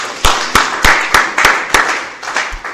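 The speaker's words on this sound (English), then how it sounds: "Let us clap for him again." An audience at an education forum claps for a speaker in a slow, rhythmic unison beat of about nine sharp claps, loud and close, with a murmur of voices between them.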